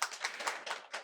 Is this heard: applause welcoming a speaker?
yes